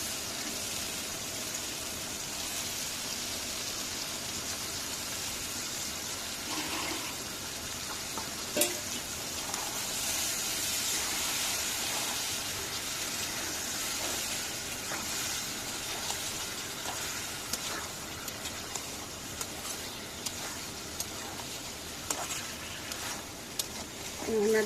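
Large shing fish frying with bitter gourd in a pan, giving a steady hiss and sizzle with occasional scrapes and clinks of stirring.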